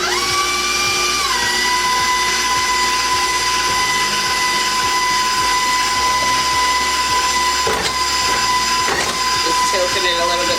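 A stand mixer whirs steadily as it beats vanilla cupcake batter at speed 4, a constant motor whine broken by a couple of brief clanks near the end.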